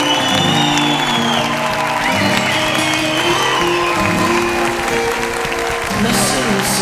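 Studio audience at a televised all-star music show applauds and cheers as a singer takes the stage, steady loud clapping with whoops over music already playing.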